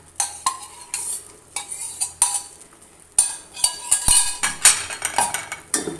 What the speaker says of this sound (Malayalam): നല്ലോണം മിക്സ് ചെയ്യുക